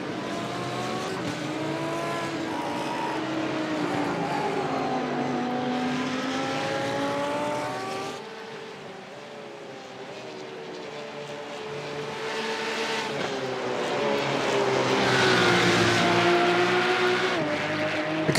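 A race car engine roars on board during a Digital Nürburgring endurance sim race, loud and continuous, revs climbing through the gears, dipping briefly on a shift or lift, then winding up again toward a high scream.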